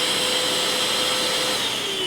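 A Tyler 2-in-1 handheld cordless vacuum cleaner runs on its high setting, giving a steady, loud motor whine with a bright airy hiss that holds unbroken for about two seconds, with no talking.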